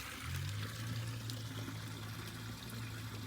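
Running water from a filter splashes and trickles steadily into a turtle pond, a close, continuous pour with a low hum beneath it.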